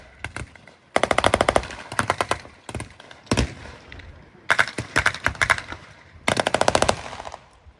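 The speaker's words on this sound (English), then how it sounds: "They're attacking the border, laying fire down." Machine gun fire in a battle reenactment at the Tankfest tank show, with American infantry attacking: loud, sharp bursts of rapid automatic fire, some single cracks between, at moderate distance outdoors.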